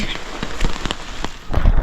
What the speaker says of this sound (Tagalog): Sa lukuyang umuulan ngayon dito sa Romblon.